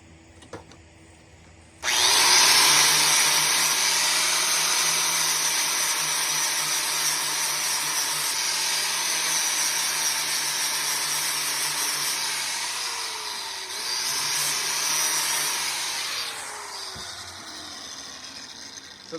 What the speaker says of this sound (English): just lightly scraping it with the grinder, taking off just enough to where I can't see the Sharpie marks anymore